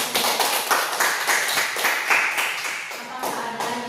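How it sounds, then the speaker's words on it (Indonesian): A small group in a classroom counseling session claps hands together, with distinct, fairly close, uneven claps in a quick rhythm that swells briefly and then tapers off. "Berikan tepuk tangan."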